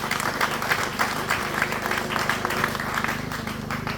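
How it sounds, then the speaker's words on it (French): Applause at a church service praising the Lord Jesus, steady dense clapping from a crowd that fills the whole stretch at an even level, with no clear voices above it. "Acclame pour le Seigneur Jésus."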